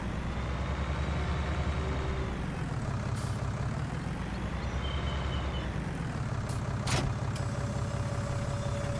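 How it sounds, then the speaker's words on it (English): A tractor engine in Farming Simulator 19 drones steadily at a low idle, with the pitch slowly rising and falling as it revs, plus a couple of brief sharp hissing bursts partway through. "So let's go ahead and jump into the tractor here."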